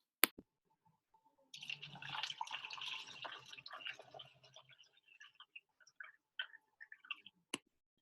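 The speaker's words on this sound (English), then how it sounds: "That's the sound of my wine pouring." Wine pours into a glass in a short gurgling stream lasting a few seconds, then trickles off into scattered drips, framed by sharp clicks at the start and end, with no talking.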